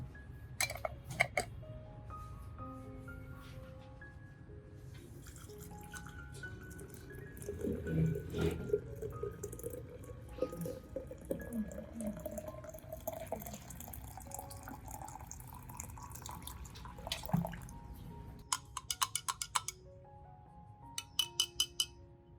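Cinnamon powder is stirred into boiling water to make a fertilizer solution for orchids, with scattered glassy clinks and light splashing and pouring of water, faint and close, in bursts with pauses between.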